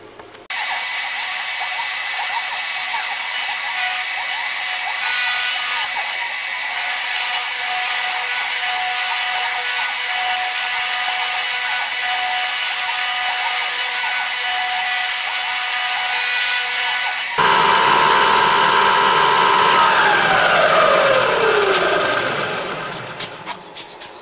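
CNC machine cutting layers of acrylic, a loud continuous high-pitched whine and grinding drone that holds steady, then shifts to a rougher sweeping tone with changing pitch before easing off at the end.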